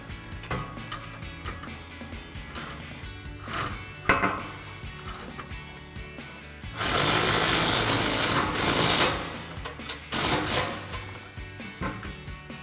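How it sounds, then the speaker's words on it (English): An impact wrench with a 16mm swivel socket tightens a bolt while mounting a bracket for a Westin HDX modular grille guard on a 2016-2023 Toyota Tacoma. Workshop clatter comes first, then two loud, close hammering bursts: one about two seconds long and a shorter one after it. "we're gonna grab our impact with our 16mm swivel and an 18mm wrench to hold the nut"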